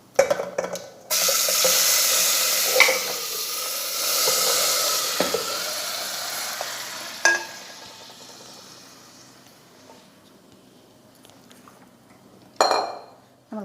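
Washed chicken tipped into hot oil with popped mustard seeds in a pan for Kerala chicken curry, giving a loud sizzling hiss that fades over several seconds, with clinks and scrapes of a utensil stirring.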